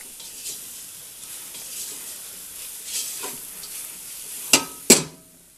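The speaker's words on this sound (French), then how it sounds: "je déglace avec le vin blanc et je mélange" Quiet sizzle and stirring in a pan as white wine goes into a flour roux for a seafood gratin sauce, soft bubbling hiss throughout, then two sharp utensil clinks against the pan near the end.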